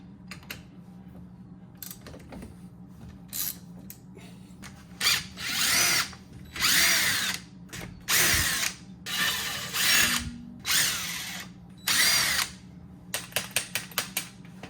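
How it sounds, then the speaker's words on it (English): Cordless screw gun driving bracket bolts on a Triumph TR6 trailing arm, loud close whirring bursts repeating in a stop-start rhythm, ending with a quick run of short pulses. "the screw gun because it's faster"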